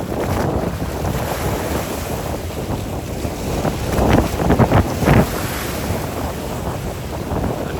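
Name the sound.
strong wind and big waves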